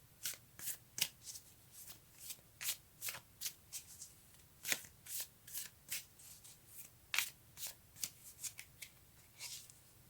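Tarot cards being shuffled by hand: a steady series of quick, crisp riffling bursts, close and fairly quiet, with no talk.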